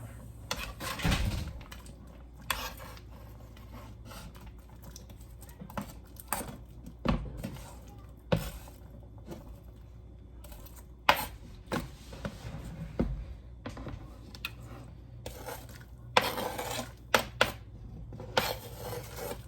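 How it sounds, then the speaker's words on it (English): Vegetables dropped into a pot of boiling pig feet, with repeated clanks of pots, utensils and lid knocks, some sharp and close, over a steady low bubbling background. "I'm about to add the vegetables."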